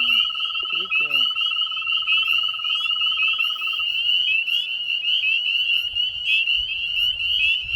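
American toads call at night in a chorus of continuous high trills. One near toad holds a sustained trill, joined by a louder, steady, overlapping background chorus throughout, with brief faint voices.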